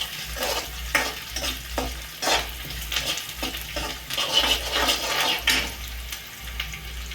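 Onions sizzle and crackle in a hot iron pan for dal tadka, broken by repeated scraping and stirring strokes, with a low hum underneath.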